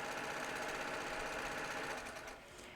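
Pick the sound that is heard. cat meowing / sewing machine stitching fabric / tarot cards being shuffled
sewing machine stitching fabric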